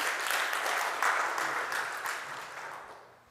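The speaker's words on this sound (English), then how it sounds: "Give yourselves a clap." A church congregation claps together in a long, dense burst of applause that swells near the start and thins out toward the end, with no one speaking over it.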